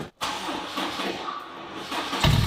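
A widebody Honda Civic cranks after a brief silence, then its engine catches unevenly and settles into a rough, wavering idle that swells louder near the end, heard close and without talk.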